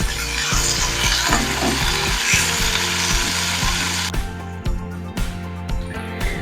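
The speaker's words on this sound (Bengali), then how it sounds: "দিয়ে একটু ভালো করে নাড়াচাড়া করে ভেজে নেব" Potatoes and greens sizzle loudly in a pan, then quiet as rhythmic scraping of a utensil stirs them, steady and close.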